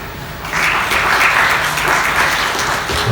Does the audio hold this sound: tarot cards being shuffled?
no